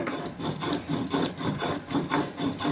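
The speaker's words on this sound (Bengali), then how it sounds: "এখন আমি এটার সাথে জিরার গুঁড়োটাও বেটে নেব।" Cumin is ground into a fine paste by hand, a rhythmic, steady back-and-forth rubbing scrape repeating about twice a second, close and fairly quiet, with no speech.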